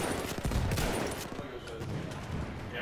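Rapid bursts of gunfire from a weapon in the World War I shooter Battlefield 1, crackling in dense clusters with battlefield noise, and a voice speaks over part of it.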